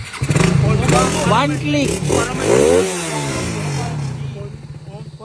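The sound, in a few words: Yamaha Raider 150 motorcycle engine revving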